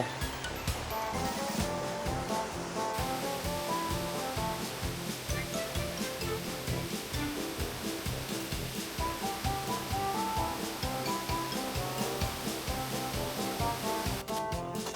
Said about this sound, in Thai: และแล้วเราก็มาถึงน้ำตกนะจ๊ะ